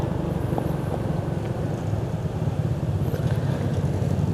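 A large car or truck passes on a narrow rural road on the Bandung–Garut alternative route via Dano, giving a steady, fairly loud low engine rumble with wind noise throughout the clip.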